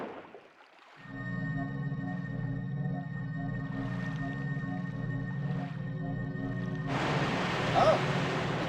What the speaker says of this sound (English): Oh, it's a water serpent.